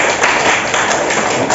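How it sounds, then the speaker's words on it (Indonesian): Classroom applause for a student group that has just given a presentation, dense steady clapping from many hands filling the whole stretch at a close, even level. "Kita berikan tepuk tangan dulu ya."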